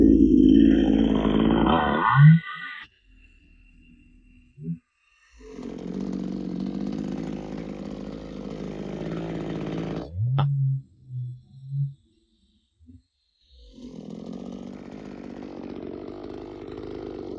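A Maruyama MCV3101TS pruning chainsaw cuts through a branch, its engine buzzing in several separate bursts with short idles and pauses between, close and loud.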